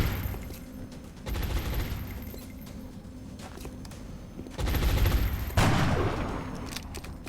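Suppressing gunfire in XCOM Long War, several rattling bursts of game shots, a short one early and two stronger ones near the end, loud and close with no talk.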